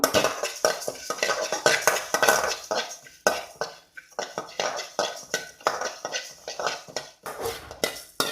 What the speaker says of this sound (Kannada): ಈಗ ತೆಗೆದುಕೊಂಡ ಕೊತ್ತಂಬರಿ ಬೀಜ ಹಾಕಿ ಇದು ಕೂಡ ಡ್ರೈ ರೋಸ್ಟ್ ಮಾಡಬೇಕು.